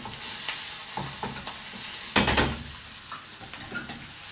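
Onions fry and brown in a pan for a vegetarian pâté, a steady close sizzle broken by scraping stirs and a louder burst of crackling midway, with occasional clinks of utensil against pan.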